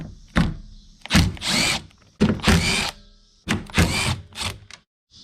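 Torx T30 screws come out of the interior trim of an Audi B8.5, heard as four loud, close whirring bursts from a powered driver separated by short pauses.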